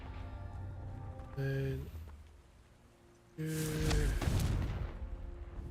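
The Confringo blasting spell is cast twice in a Harry Potter video game, each a sudden burst with a ringing tonal whoosh. The second blast is louder and rumbles longer, and a voice talks nearby.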